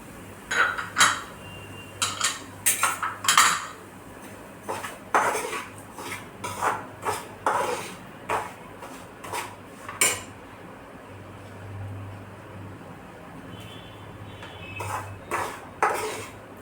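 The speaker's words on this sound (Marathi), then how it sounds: "तर तूप गरम झालेला आहे आपलं रवा आपण सगळाच टाकून घेणार आहोत" Semolina is stirred and roasted in hot ghee in a pan on low heat for rava laddu, heard as repeated close metallic scrapes and clinks of a spoon against the pan in irregular bursts, with no talking.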